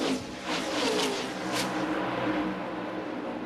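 NASCAR Busch Series race cars racing at New Hampshire International Speedway in 2002, a continuous loud engine roar from cars circulating and passing, swelling and fading slightly across the track.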